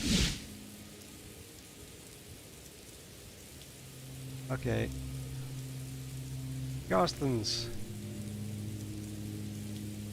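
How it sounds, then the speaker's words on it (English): Rain falls in the video game Morrowind as a faint, steady hiss running beneath a player's occasional talk and a few brief game sounds. "Rain again."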